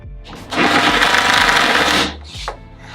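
Screws being driven into a wooden workbench frame: a sustained, loud mechanical whirring burst lasting about a second and a half, then a quieter short buzz, with no talking.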